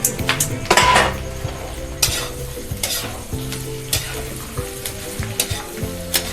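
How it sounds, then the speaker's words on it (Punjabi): Okra and onions being fried in a pan sizzle loudly while a utensil scrapes and knocks against the metal in repeated stirring strokes, with no one talking. "ਹੁਣ ਅਸੀਂ ਨਾਲ ਹੀ ਇਹਦੇ ਵਿੱਚ ਪਾ ਦਾਂਗੇ ਭਿੰਡੀਆਂ ਤੇ ਨਾਲ ਹੀ ਇਹਨੂੰ ਭੁੰਨ ਦਾਂਗੇ"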